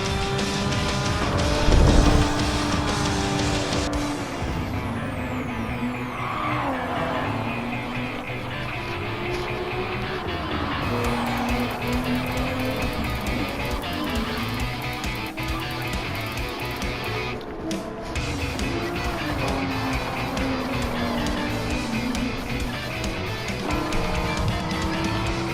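Porsche race car engine in a circuit race, droning loud and continuous with rising and falling pitch sweeps as it passes, other car engines layered beneath.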